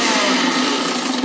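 A Bajaj Juvel 800-watt mixer grinder runs at speed, a loud, steady motor whine with dense broadband roar and a strong hum, continuous throughout with no voices.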